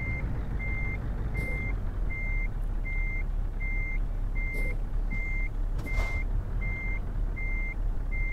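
Euro Truck Simulator 2 truck idling and creeping forward under a steady low engine rumble, with a regular reversing beep repeating about every half second and a few faint clicks and hisses, no speech.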